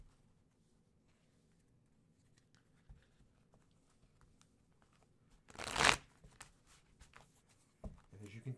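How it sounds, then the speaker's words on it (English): A deck of cards shuffled during a tarot-style reading, a brief riffling burst near the middle followed by a few light card snaps, over a quiet room background. "so we're going to shuffle those cards"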